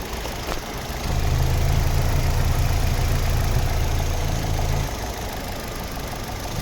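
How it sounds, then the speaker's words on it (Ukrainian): The 1.8-litre petrol engine of a 2008 Opel Zafira idles steadily, a low rumbling hum with a faint rhythmic knock, rising a little for a few seconds before settling back. "гарно працює двигун."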